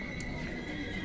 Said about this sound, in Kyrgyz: Мына жерде дагы бир көмүрдө болгон капкара түстөгү жылкы кириптир.